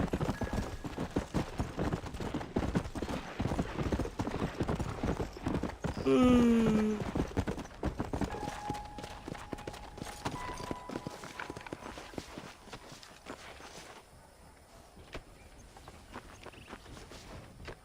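Horse hooves clip-clop steadily at a trot in the Red Dead Redemption video game, with a brief whinny partway through and the hoofbeats thinning toward the end.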